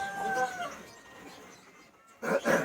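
Chickens cluck close by in short bursts, with a brief lull of quieter background before a couple more loud clucks at the end.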